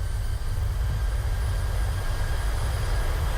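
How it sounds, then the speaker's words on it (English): Airliner thrust reversers in Microsoft Flight Simulator 2020 roar as a steady, dense, low rumble with a constant broad hiss above it, heard during rollout after touchdown at about 120 knots. "There's the reversers coming on."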